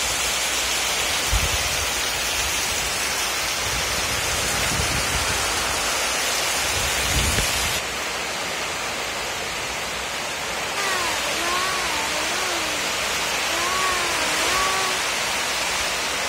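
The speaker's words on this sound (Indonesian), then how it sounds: "dia hujan lebat kuat." Heavy rain pours down in strong wind, a dense, loud, continuous hiss that lasts throughout, with a few low thuds early on and faint warbling tones in the later part.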